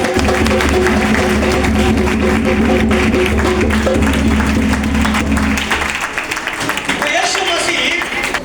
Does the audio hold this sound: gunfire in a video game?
no